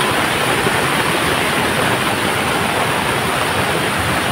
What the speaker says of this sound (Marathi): काही आता तर नेक्स्ट लेवल पाणी येत आहे, म्हणजे फुल हौड आलेला आहे आपल्या नदीला.